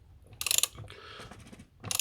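A ratchet with a 27 mm socket and extension loosens a BMW 318/320 oil filter, two short bursts of rapid pawl clicking, close and fairly quiet, separated by a brief scrape.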